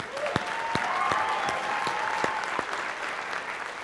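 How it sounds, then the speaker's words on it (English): Audience applause for performers at a school district's State of the Schools event, a steady wash of clapping across the whole stretch with a few sharper claps standing out, fairly distant and moderate in level. "Let's give them another round of applause."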